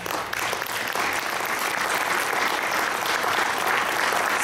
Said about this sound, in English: I'd ask you all to give an applause to the candidates